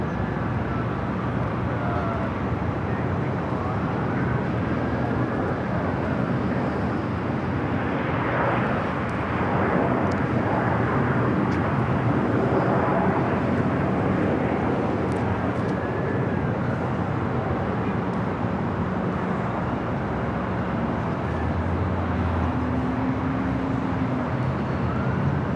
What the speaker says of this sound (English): Air New Zealand Flight 4 coming in from Auckland.